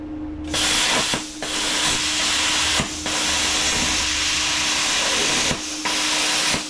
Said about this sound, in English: There's a noise not even touching the trigger. And the pilot arc is just igniting all the time.